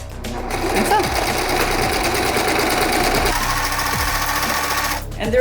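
A sewing machine stitches a folded cotton-like cosplay hakama fabric, a loud, close, continuous rapid mechanical whirring and knocking that runs steadily before stopping near the end.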